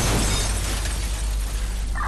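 A loud steam pipe explosion in the video game Watch Dogs, a dense, roaring burst of noise that fills the whole moment and fades slightly toward the end.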